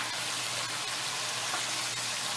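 Blackened tilapia frying in a pan with plenty of oil, a steady, close hiss of sizzling with faint crackles throughout, no voices.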